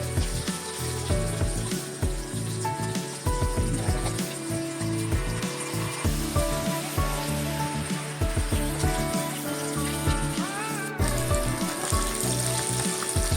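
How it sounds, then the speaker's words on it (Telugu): Fish fries in hot oil in a pan, giving a loud, constant crackling sizzle with spattering pops throughout. It is close and continuous, with no talking. "ఈ ఫిష్ వేగేటప్పుడు అన్ని వైపులో తిప్పుకుంటూ వేయించుకోవాలి."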